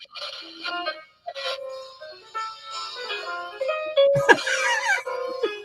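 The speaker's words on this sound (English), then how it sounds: "That's pretty good for a small radio." Small battery-powered transistor radio playing inside a truck stop, giving a thin, tinny mix of tonal music and voices that shifts continuously, with a brief louder burst near the end.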